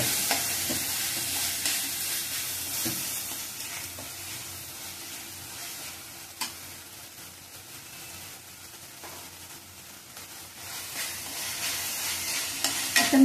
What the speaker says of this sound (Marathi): आता मसाला छान परतला गेला आहे